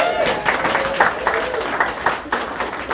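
Audience at a college welcome and keynote event cheering and clapping, a steady wash of applause with voices rising through it, moderately loud throughout.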